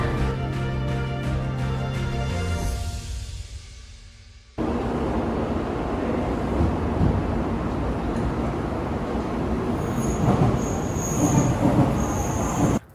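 A Shinkansen bullet train runs on rails in Japan. A humming, tonal passage gives way to a loud, steady rush and rumble of wheels with occasional squealing, close and continuous throughout.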